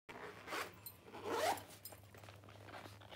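A zipper on a purse with silver hardware is pulled open in two quick, close rasping strokes, then a faint residual rustle.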